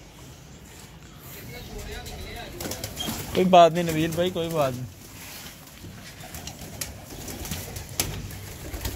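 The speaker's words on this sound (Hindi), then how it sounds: "ये देखें, ये आ रहा है, ये आ रहा है, ये कबूतर आ रहा है, बार बार गिर रहा" A Kamagar pigeon flaps its wings and coos near a net, a brief burst of cooing and wingbeats in the middle, with someone talking throughout.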